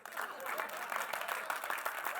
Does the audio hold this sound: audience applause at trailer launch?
yes